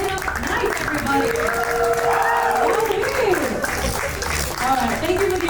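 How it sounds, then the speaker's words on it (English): Audience applause and some cheering at a Playfair show, continuous loud crowd clapping under a talking, sliding voice that runs through most of the stretch. "thank you for the applause"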